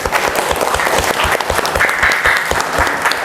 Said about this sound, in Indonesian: Beri tepuk tangan untuk dia.